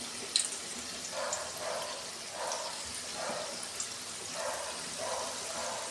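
Nimki, flaky flour snacks, fry in hot oil with a soft, steady sizzle. Faint bubbling bursts rise and fall in a loose rhythm, close by and quiet, with no talking.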